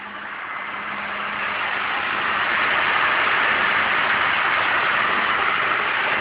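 A seed-dressing machine runs for grain treatment, a steady loud mechanical whoosh and hum that builds up over the first seconds and then holds constant, with no voices.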